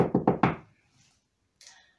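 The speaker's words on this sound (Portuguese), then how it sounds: "Bateu na porta." Four quick, solid knocks on a door in a children's story, close and fairly loud, followed by a brief faint rustle after a short silence.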